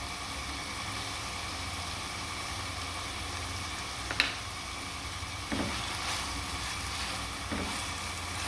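Shrimp frying in a pan with turmeric, chili, salt and ginger-garlic paste gives a steady, close sizzle, with a few sharp clinks and stirring scrapes breaking through the constant hiss.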